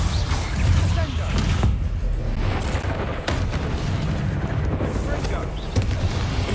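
A Descendo spell cast in combat in Hogwarts Legacy, heard as a loud, deep boom amid a dense run of other spell impacts and low rumbling, with bursts and thuds over six seconds.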